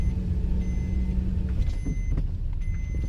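Car engine droning steadily while climbing a hill, with a brief change in tone as the driver shifts into second gear; continuous low rumble, near and fairly loud.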